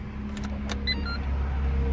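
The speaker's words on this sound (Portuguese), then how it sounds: "Coloquei o carro em funcionamento." A Renault Kwid Outsider subcompact car is switched on, with a short whirr and faint clicks followed by a steady low engine idle hum, heard close from inside the cabin.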